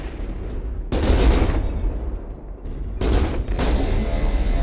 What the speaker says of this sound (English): Use the bull shot, keep firing the lasers.